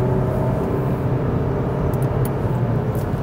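A 2022 Mazda3 with an automatic transmission downshifts while rounding a turn, its engine giving a steady, moderately loud drone with cabin road noise and no obvious shift jolt.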